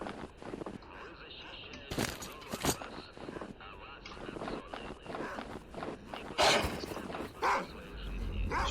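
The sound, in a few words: dogs barking in the video game S.T.A.L.K.E.R. Clear Sky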